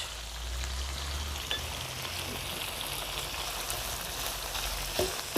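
Pepper chicken frying in a pan with ginger, garlic and vinegar, a continuous close sizzle with faint occasional stirring taps.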